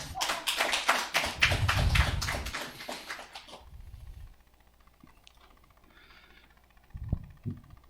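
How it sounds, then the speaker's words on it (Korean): An audience at a Korean Catholic lecture claps briefly, a burst of many hands in the first few seconds that fades out, followed by a quiet hall with faint scattered noises. "박수 한번 보내주세요"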